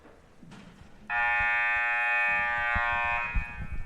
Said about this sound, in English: We're just waiting now for the buzzer.